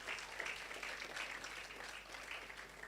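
Conference audience at a prematurity awareness summit giving a round of applause, a steady even wash of clapping heard at moderate distance for a few seconds, with no talk over it.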